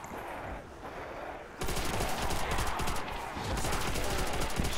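Automatic gunfire rattles through a Call of Duty custom zombies map, a dense continuous burst that jumps louder partway through and keeps hammering to the end, close and busy with no clear speech.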